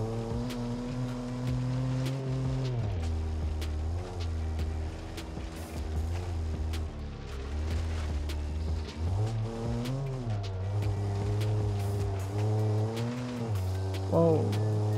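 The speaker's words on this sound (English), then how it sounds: "The engine is only 23 horsepower" A 23-horsepower milk van engine drives in BeamNG, droning steadily with rising and falling revs as it shifts, loud and continuous throughout.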